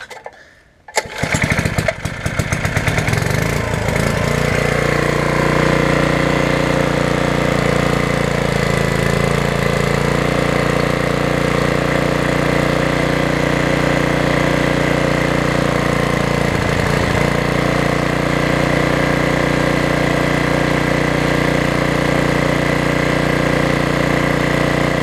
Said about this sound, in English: now I'm going to go for the high speed adjustment, and I'm going to try to get it running the best